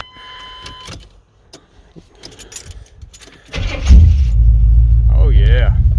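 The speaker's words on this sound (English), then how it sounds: "I just figured we'd do a little cold start on her, see how she fires up." An old truck's engine cranks and fires up on a cold start, then settles into a loud, steady low rumble. Key jingling and cab clatter come before it, with someone talking nearby.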